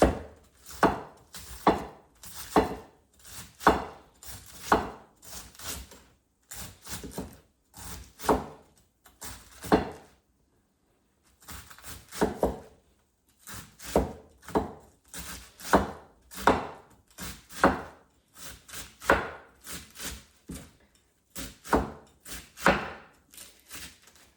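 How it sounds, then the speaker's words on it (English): Steady, rhythmic knife chopping of cabbage on a board, close and crisp, in quick bursts with a short pause midway. "let me finish chopping this one."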